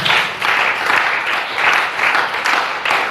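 A church congregation applauds steadily and loudly for about three seconds, a dense wash of many hands clapping with slight swells, close and filling the space.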